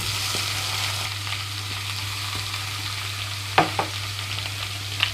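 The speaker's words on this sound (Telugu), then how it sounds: "స్టవ్ని మీడియం ఫ్లేమ్లోకి టర్న్ చేసి వంకాయ ముక్కలన్నీ ఇందులోకి వేస్తున్నాను" Brinjal pieces frying in an onion tempering over a medium flame, a steady low sizzle with a constant hum underneath and a few sharp clinks of a utensil against the pan near the end.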